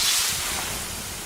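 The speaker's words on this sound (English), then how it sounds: "The sound of water being poured on 800-degree rocks." Water poured onto 800-degree rocks in a sauna gives a loud, steady hiss of steam that fades slightly over its short length, with no voices.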